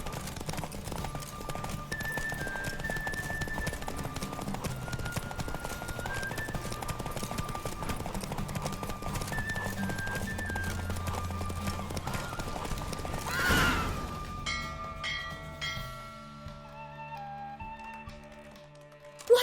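Horse hooves galloping in The Witcher 3 during a race, a fast rhythmic clip-clop carried over a steady musical score that thins out near the end.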